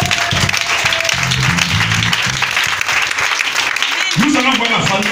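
A church congregation applauds, a dense, continuous sheet of clapping heard up close, with voices and cheers mixed in.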